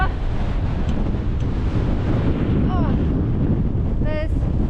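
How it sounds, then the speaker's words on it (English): Strong gusting wind roars across the exposed summit of Seathwaite Fell in the Lake District, a loud, continuous buffeting rush over the microphone with no let-up. "Oh, it's windy on here."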